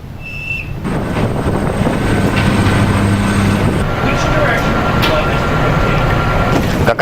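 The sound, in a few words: fighter jets taking off from aircraft carrier deck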